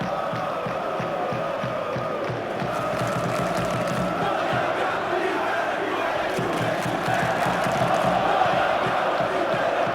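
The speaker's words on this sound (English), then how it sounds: "Crowd appreciates good football all round there." A football stadium crowd in the video game PES 2021 roars and cheers steadily throughout, a dense, continuous wash of voices with no break.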